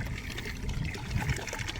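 Water flowing steadily from a motorized hand pump, a soft continuous trickle and splash, quiet and close, with no voices.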